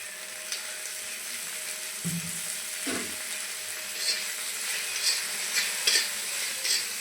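Okra fries in mustard oil in a pan with a soft, steady sizzle and a few scraping stirs, quiet and close, with no talk.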